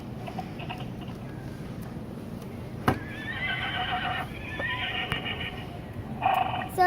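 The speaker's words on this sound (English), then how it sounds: "like to show you my horse. See, this is Maximus." A Disney Princess Maximus toy horse plays a recorded neigh and whinny with clip-clop hoofbeats, a clear electronic sound starting after a click and returning briefly at the end, close and fairly loud.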